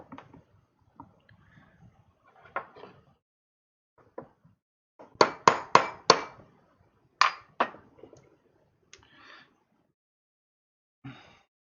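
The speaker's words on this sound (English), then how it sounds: "Sometimes a little hammering is necessary." A small hammer taps a pin out of a Sig Sauer M18 pistol during detail stripping, giving sharp metallic strikes. A burst of several quick taps comes mid-way, with scattered lighter knocks and handling clicks before and after.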